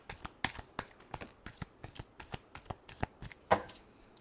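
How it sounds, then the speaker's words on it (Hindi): Tarot cards shuffled by hand for a Sagittarius reading, a close, soft series of rapid riffles and taps in an uneven rhythm, with one sharper slap near the end. "Last shuffle."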